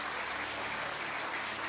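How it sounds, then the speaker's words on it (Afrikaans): A church congregation claps during a production event, making a faint, dense wash of applause that stays steady throughout with no clear speech over it. "ek wil hê die res van julle moet vir hulle hande klap gee."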